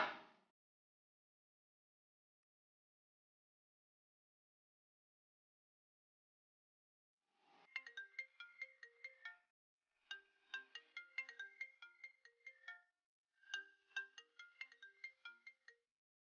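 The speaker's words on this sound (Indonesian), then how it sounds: "barusan HP gue itu ditelepon sama nomor telepon di rumah ini" A mobile phone ringtone for an incoming call plays in three bursts of a bright, repeating melodic pattern, with silent gaps between them, in an otherwise silent house after a brief sound at the very start.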